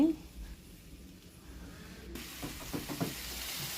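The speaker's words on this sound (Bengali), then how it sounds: "দিয়ে দিলাম ধুয়ে রাখা শালগম আলু, দিয়ে দিলাম পরিমাণ মতো জিরার গুঁড়া, হলুদের গুঁড়া, মরিচের গুঁড়া আর পর্যাপ্ত পরিমাণে লবণ দিয়ে ভালো করে কষিয়ে নিচ্ছি।" Turnip and potato pieces with cumin, turmeric, chilli powder and salt frying in a pan for a vegetarian turnip-potato curry, a soft hiss that swells into a louder sizzle with scraping stirs partway through, near and moderate in level.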